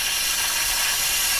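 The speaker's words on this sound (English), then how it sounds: "basically there's your steam coming through" Karcher SC3 steam cleaner releasing a loud, steady hiss of steam at close range, continuous throughout with slight flutter.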